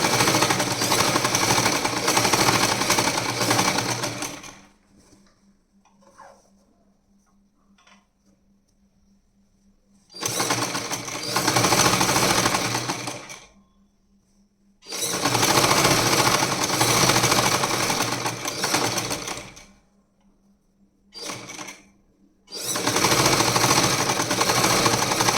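A sewing machine stitches a pillow cover in loud, rapid mechanical bursts of several seconds each, separated by quiet pauses, with one short burst near the end, and no talking.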